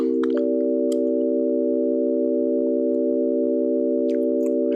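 A dominant ninth chord in just intonation, built from pure, smooth synthetic tones, is held steady and unchanging at an even volume for several seconds, with a faint click at the start and no voices.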